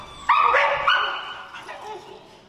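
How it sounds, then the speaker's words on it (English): A wrinkly dog barks in frustration during recall training with an e-collar, giving a loud yelping bark and a second bark that trails off into whining, close by. "that's just frustrated barking there"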